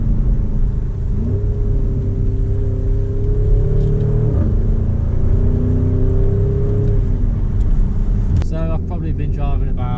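A 2023 Porsche Cayenne Turbo GT's V8 engine rumbles and whirs as it drives, pitch rising and falling with acceleration, heard from inside the car, fairly loud and steady.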